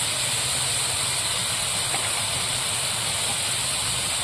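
Spice paste with turmeric and salt sizzles steadily in a pan while frying for a mustard-paste parshe fish curry: a continuous, even, loud hiss with a faint low rumble beneath and no talk.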